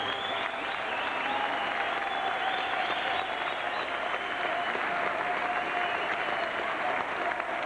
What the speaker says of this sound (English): please, a big round of applause for both these warriors.